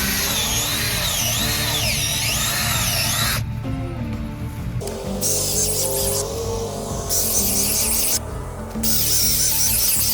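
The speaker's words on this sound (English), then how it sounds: "I just use a drill with an auger." A power drill with an auger whirs steadily, its pitch shifting as the bit bores through difficult garden soil, with grinding bursts along the way.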